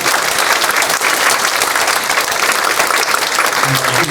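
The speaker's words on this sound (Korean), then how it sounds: "기호 2번 배현성 목사님, 기호 1번 장효수 목사님께 우리 뜨거운 박수 한번 다시 해주시겠습니다." Audience applause for two pastor candidates at a church general assembly election policy debate, a dense, steady wash of many hands clapping that fills the whole stretch with a faint murmur beneath.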